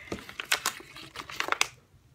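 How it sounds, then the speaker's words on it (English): Bubble wrap packaging around a fidget spinner crinkles and crackles in a quick series of sharp pops and rustles, fairly quiet and up close, as the package is pulled open by hand. "I think it's just bubble wrap without any box."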